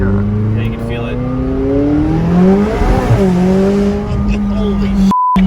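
A McLaren 570S Spider in track mode accelerates hard. The engine note rises and sweeps up loud and close through the gears, voices are heard briefly inside the cabin, and a short beep sounds at the end.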